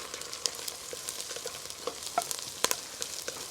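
Onions sautéing in a pan for smoked brisket chili, a soft, steady low sizzle with occasional light scrapes and taps of stirring, quiet and close, no talking.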